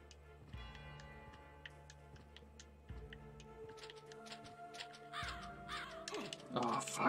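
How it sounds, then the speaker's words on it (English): Several crows caw in the video game Castlevania: Symphony of the Night, with repeated sharp calls over ticking game effects and a low droning background, the cawing growing busier toward the end. "Wow, multiple crows."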